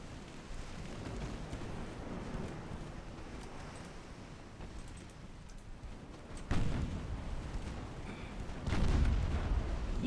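Naval gunfire from 2 and 3 inch stern guns aboard a warship in a battle in Ultimate Admiral Dreadnoughts, heard as a rumbling wash of distant booms that swells into two louder bursts near the end.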